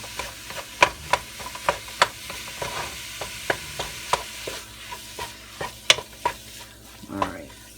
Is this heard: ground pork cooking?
yes